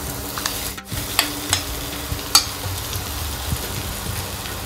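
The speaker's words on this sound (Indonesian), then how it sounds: "So sambung goreng lagi." Curry powder blended with a little water frying alongside wilted onions in a pan, a steady close sizzle broken by a few soft clinks and scrapes of stirring.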